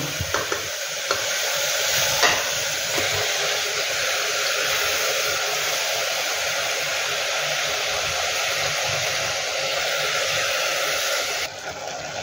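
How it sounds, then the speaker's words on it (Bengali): Chana dal sizzles steadily in hot oil in a pan while being stirred, a continuous close hiss with occasional scraping clatter of the spoon, no voices. "এখন এর মধ্যে এই ছোলার ডালটা দেব।"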